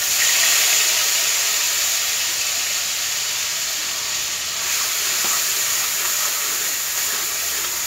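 Onion, garlic and ginger paste sizzling in hot oil with a little white cumin, a steady bright hiss and crackle that holds evenly throughout, close and fairly loud with no talking.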